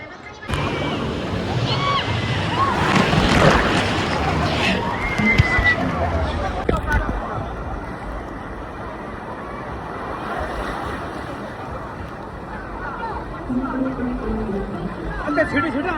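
Ocean waves break and wash over a beach on a summer outing, a loud steady roar of surf and sloshing water close by, with voices faintly mixed in.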